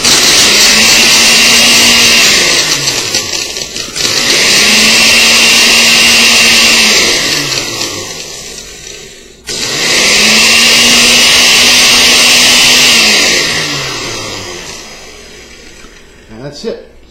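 A blender whirs loudly and steadily through two long runs with a brief pause between, mixing a low calorie, low fat milkshake with ice, the motor's whine winding down at the end.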